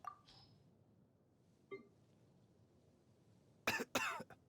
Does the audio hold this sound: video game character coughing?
yes